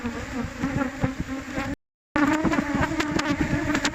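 Honey bees swarm and buzz densely around beehive frames, a loud, close, continuous drone with a brief total dropout in the middle.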